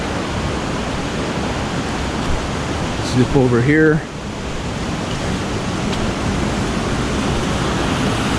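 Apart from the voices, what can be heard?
small waterfall on a river, Vancouver Island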